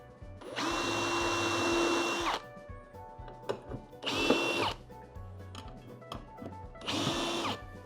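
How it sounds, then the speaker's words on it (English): A power drill fitted with a center punch bit whirs in three bursts, the first long and the next two shorter, spinning up and winding down, with quiet handling noises in between. "This is a center punch drill, whatever it's called."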